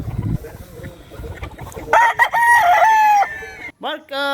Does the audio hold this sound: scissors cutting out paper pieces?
no